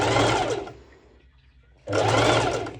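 A sewing machine runs in two steady bursts of rapid stitching, separated by a short near-silent pause, while sewing the lower bust section of a halter neck top.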